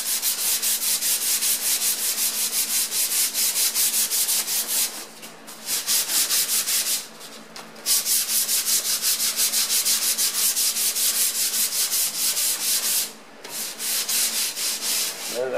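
Hand sanding a wooden wall shelf with 150 grit sandpaper: steady, close scratchy rubbing strokes in a fast rhythm, with a few brief pauses between passes.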